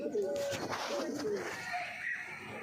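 Domestic pigeons kept for breeding coo in low, rolling phrases close by, several calls overlapping, with faint human voices in the background.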